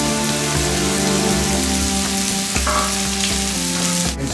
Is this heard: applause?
no